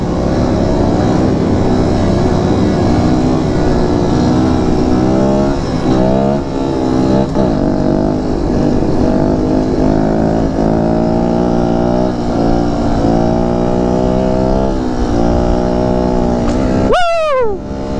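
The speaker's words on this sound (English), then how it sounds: "I'm ripping a wheelie through here right now." A motorcycle engine revs hard while its rider pulls a wheelie during a group rideout in Omaha, Nebraska. The loud, close engine note rises and falls in repeated surges over steady wind rush, with a sharp rising whine near the end.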